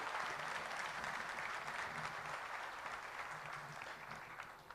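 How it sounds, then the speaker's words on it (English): A large audience at an investment summit claps in dense, sustained applause that holds steady and then tapers slightly toward the end, with no voices over it. "Could we please have a round of applause for them?"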